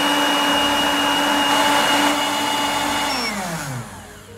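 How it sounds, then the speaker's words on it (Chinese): A high-speed blender whirs loudly and steadily as it purees corn kernels with water, then its motor winds down and fades near the end. "把玉米粒倒入料杯中，然后倒入适量的清水，调至破壁机果蔬汁的程序"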